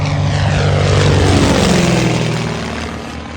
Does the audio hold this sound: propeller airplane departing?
yes